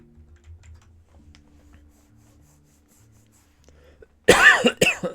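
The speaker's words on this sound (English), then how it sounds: "this cough is back" After near silence, a couple of loud, harsh coughs burst out close by, one right after the other.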